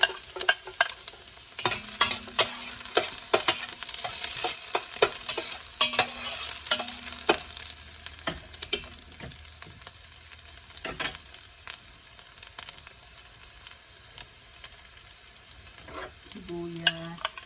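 Chopped ginger and garlic sizzle and sauté in a pan with steady frying crackle, punctuated by repeated scraping and clinking of a utensil stirring against the pan.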